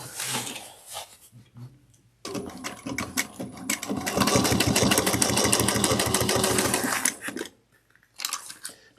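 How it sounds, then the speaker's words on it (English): A sewing machine stitches a seam at an eighth-inch allowance in a quiet room, starting with short bursts, then running in a steady fast rattling whir for several seconds before stopping, with a brief restart. "then we're going to sew it down at 1/8 of an inch"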